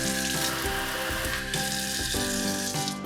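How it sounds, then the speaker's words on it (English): A kitchen tap hose sprays water in a loud, steady hiss that continues through the whole stretch with no pause, while faint clatter sounds underneath. "the hose also sprays"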